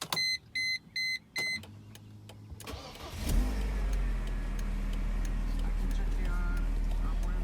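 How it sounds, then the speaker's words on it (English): Mercedes SLK 230 started with a key: a series of warning beeps and clicks, then the starter cranks and the engine catches, settling into a steady, close idle. "Just put the key in and see if it starts."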